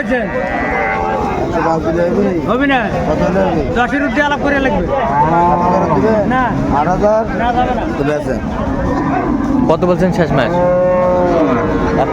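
Cows with their calves at a busy rural cattle market, with loud repeated moos and bellows from several animals up close. Constant crowd babble and talk run underneath throughout.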